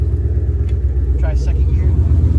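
A Ford Mustang Fox Body driving in first gear gives a steady, close, low engine rumble throughout, with a brief voice heard over it.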